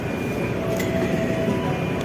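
A KRL commuter train rumbles steadily at Cakung station platform, a continuous loud rolling drone with faint metallic squeals and clanks throughout.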